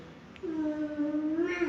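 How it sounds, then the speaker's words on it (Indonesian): A cat outdoors gives a single drawn-out meow that rises slightly toward the end. It sounds moderately close and is heard on its own, with no talk over it. "Itu ada kucing di luar, kucing."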